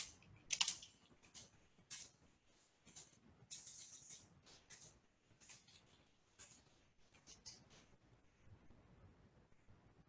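Someone types text on a computer keyboard, a quiet, close patter of uneven clicks in short runs with brief pauses, no talking.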